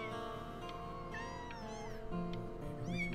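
Cats in the video game Before Your Eyes meow repeatedly, several rising and falling mews heard close over a steady background hum of game music.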